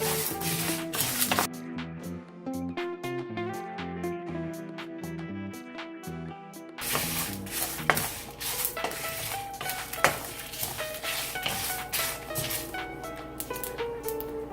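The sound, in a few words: roasting cumin, fenugreek, coriander, timur, dried chilli in pan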